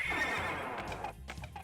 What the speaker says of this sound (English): So we got ourselves some horses.